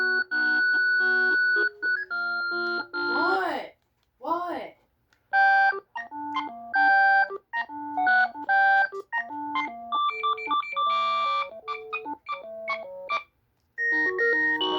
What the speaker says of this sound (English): Here's my second favorite ringtone.